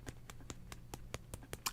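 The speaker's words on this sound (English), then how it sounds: "Let's give Michael a nice little golf clap" A small group gives a quiet golf clap, about ten soft, evenly spaced claps at a brisk, steady rhythm, faint and close, with no talking over them.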